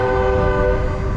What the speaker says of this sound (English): he's hitting the train horn